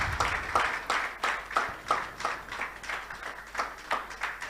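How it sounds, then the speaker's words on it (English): Audience applause at a Nigeria at 61 colloquium, heard as a small group clapping in a steady, moderately loud rhythm of distinct claps, with no talk over it. "Let's give him a round of applause."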